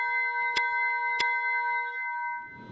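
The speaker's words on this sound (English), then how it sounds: "you hear that bell? It's time now for our last call" A bell rings twice with sharp metallic strikes, its tones lingering in a long sustained hum that slowly fades out, signalling last call.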